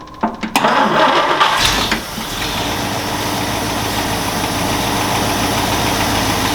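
Engine of a Toyota FJ truck cranking with a few sputters, catching and settling into a steady, loud idle that runs on evenly to the end, close to the microphone.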